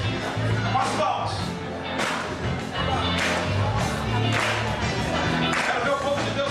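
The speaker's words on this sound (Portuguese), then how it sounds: "Com as palmas." Church congregation clapping along at an evening Thanksgiving celebration service, steady rhythmic claps blended with music and singing voices throughout, loud and continuous.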